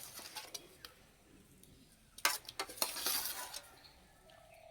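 Boiled potatoes tipped onto a metal plate, giving a few light clinks and a short clattering scrape midway, close and fairly quiet over a soft background hiss, no talking.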